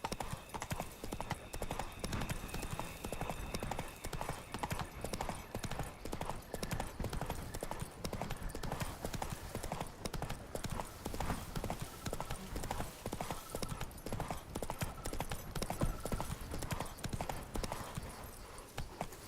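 Roach, a horse in The Witcher 3, gallops steadily with a fast, continuous clip-clop of hooves that stays close and loud throughout, with a faint game ambience underneath.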